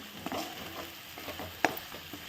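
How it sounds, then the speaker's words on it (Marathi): Homemade spices and green chili fry in hot oil with a steady close sizzle, stirred throughout with soft scrapes and one sharp utensil clink near the end. "आता मसाले छान फ्राय झाले"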